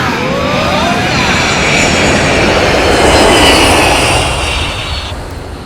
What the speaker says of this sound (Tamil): ஃப்ளைட் டேக்கப் ஆக போகுது